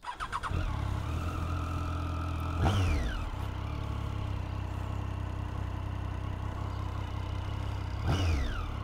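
A 2013 Triumph Street Triple R motorcycle engine cranks and fires, then idles steadily close by, with two sharp revs rising and falling partway through and near the end.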